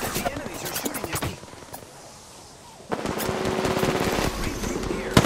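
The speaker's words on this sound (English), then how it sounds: "The enemies are shooting at me." Enemy gunfire in a video game: loud machine-gun bursts crackle in rapid strings, drop away briefly, then return as sustained automatic fire close by, with a voice talking over the shots.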